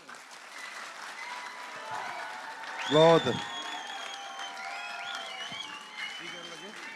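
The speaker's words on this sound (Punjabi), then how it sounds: "ਇਹ ਤਾਲੀਆਂ ਬਹੁਤ ਘੱਟ ਆ ਜੀ" Audience applause at a Punjabi conference comedy show, a burst of clapping swelling loudly around the third second over an ongoing crowd murmur, with someone speaking over it.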